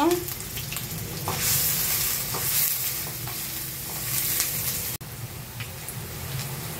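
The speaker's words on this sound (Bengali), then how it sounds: "আমি পেঁয়াজটা সুন্দর করে ভেজে নিব" Onions sizzle and fry in a pan for beef bhuna, a continuous crackling hiss with occasional stirring scrapes and a brief clatter near the end, close and fairly loud.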